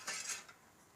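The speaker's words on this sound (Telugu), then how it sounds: "అలాగే ఇంకొక పాన్ పెట్టుకొని" A pan set down on a kitchen stove while cooking Telugu-style dal with spinach, a brief metallic clatter of cookware near and alone, fading quickly into quiet room tone.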